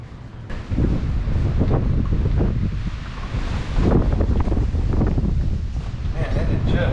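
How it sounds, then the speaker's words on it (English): Strong outdoor wind buffets the microphone in loud, rough gusts for several seconds, with a rustling texture and faint muffled voices underneath. "Man, that is just windy."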